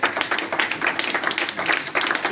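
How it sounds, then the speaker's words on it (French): A church congregation applauds during a worship service, a steady wash of many hands clapping together with no clear individual beats, fairly close and continuous throughout. "Nous applaudissons sur cette parole que nous avons."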